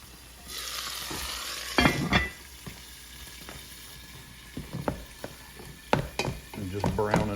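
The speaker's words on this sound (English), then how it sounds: "just browning up some ground beef back here on the taco soup side of the house" Ground beef browns in a pot for taco soup, giving a low continuous sizzle broken by several sharp spatula scrapes and stirring knocks, close by and fairly loud.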